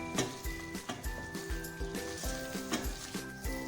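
Pieces of fried chicken sizzle in black pepper masala on high heat while a spatula taps and scrapes the pan in a regular beat, the frying hiss running underneath the close metallic knocks.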